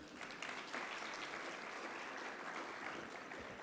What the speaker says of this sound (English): Let us show our appreciation with a heartful round of applause